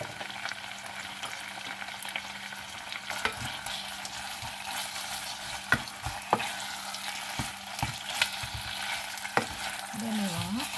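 Beef fries with well-cooked onions in a pan for a bo bun with rice vermicelli, giving a steady close sizzle broken by repeated sharp clacks of a utensil stirring and scraping, with no voices.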